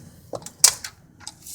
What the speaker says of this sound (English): the device will make a clicking noise the moment we reach that many foot-pounds of torque on the plug